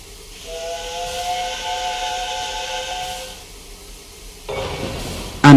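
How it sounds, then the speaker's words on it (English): A steam locomotive lets out a sustained steam whistle lasting a few seconds, followed by a breathy hiss of escaping steam and a sharp louder burst at the very end, with no talking. "And Gordon puffed away in a dignified manner"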